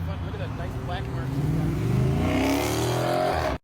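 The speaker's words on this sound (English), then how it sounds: "that doesn't sound too bad for a stock Scat Pack with a stock exhaust" A Dodge Scat Pack with stock exhaust revs up loud and close, the engine note climbing and swelling in a single rising pull before cutting off abruptly.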